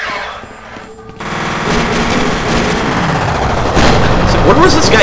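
Sustained automatic gunfire in the shooter F.E.A.R., a dense, loud rattle of shots that cuts in after a brief quieter moment and keeps going steadily to the end, with a faint voice underneath.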